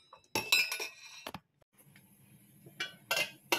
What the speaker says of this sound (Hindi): पहले इसको मैं जो है एक बड़ा सा चम्मच ले लेती हूँ इसको मिक्स करने के लिए